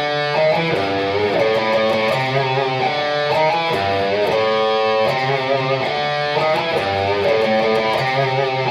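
Distorted electric guitar plays the intro riff in full, loud and continuous, with repeated phrases and no voices.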